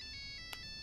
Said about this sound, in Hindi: अरे फोन है। अरे मेरे पास फोन है।